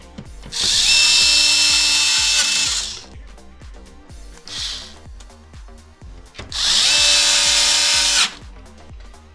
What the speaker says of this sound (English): put in the last two screws